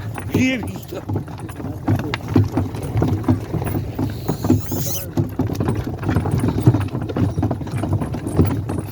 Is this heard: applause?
no